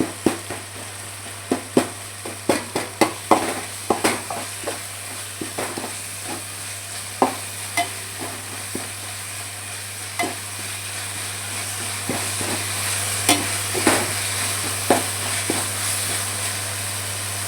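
Onion and tomato sizzle as they are sautéed in a pan for an omelette dish, with steady frying hiss and repeated scraping stirs from a spoon throughout, no voices heard.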